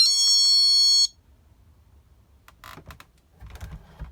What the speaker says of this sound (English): So I'll just illustrate it with the chime setting.